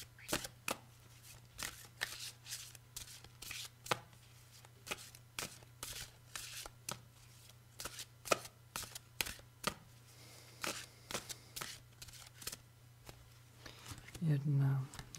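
A deck of cards is shuffled by hand during a tarot-style reading, with a run of crisp, quick riffling clicks and flicks through most of the stretch, fairly faint and close, with a short murmur near the end.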